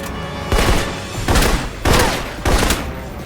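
Four heavy gunshots in the video game Alpha Protocol fire at a steady, roughly half-second-spaced rhythm, each loud, booming and close, with short echoing tails.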